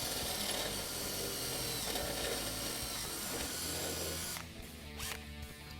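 A power drill bores out the factory hole in a 1965-1973 Mustang hood to half an inch, giving a loud, steady grinding whine that eases off briefly toward the end.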